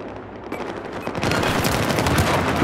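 Shotgun gunfire in the Battlefield 4 video game, a loud, dense burst of rapid shots that grows heavier and more continuous partway through, with no voices.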